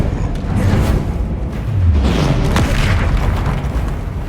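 A Confringo fire spell blasts in Hogwarts Legacy, a loud booming fiery explosion with a rumbling burst that swells and sustains across the whole moment, no voices.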